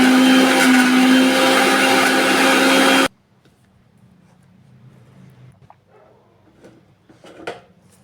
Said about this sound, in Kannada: ಸ್ವಲ್ಪ ಕೊತ್ತಂಬರಿ ಹಾಕ್ಕೊಂಡು ನುಣ್ಣಗೆ ರುಬ್ಕೊಂಡ ಬರೋಣ್ರಿ